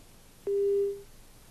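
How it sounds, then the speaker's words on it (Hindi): A single steady electronic telephone tone sounding after a call is disconnected, one clean sustained beep lasting about half a second, clear and moderately loud against quiet background hiss. "एडिशनल एसपी ने फोन को डिस्कनेक्ट किया है"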